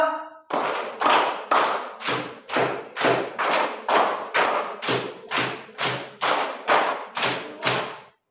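A classroom of students does the rhythmic tepuk semangat spirit clap, a run of about fourteen loud, evenly spaced unison claps or thumps, each sharp and distinct, following a brief count-in.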